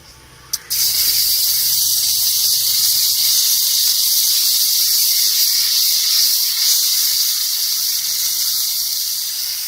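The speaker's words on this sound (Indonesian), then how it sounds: "Sebelum kita menumis, terlebih dahulu kita menggoreng terasi." Terasi shrimp paste hits a hot pan with a brief tap, then sizzles loudly and continuously, a bright steady hiss of frying that holds without pause, close up and alone.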